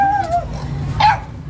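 A dog gives two brief, high whimpering yips about a second apart, fairly close, over a low murmur of background noise.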